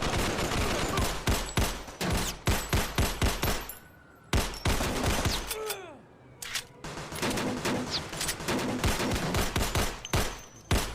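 Rapid gunfire in a Meta Quest 3 VR shooting game: dense, loud bursts of shots in quick rhythmic volleys, with a brief lull and a falling whistle before the firing resumes.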